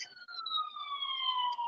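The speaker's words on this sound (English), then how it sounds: "Ambulance." An ambulance siren wails along a street, a steady, fairly distant descending tone that holds for the whole stretch with no talk over it.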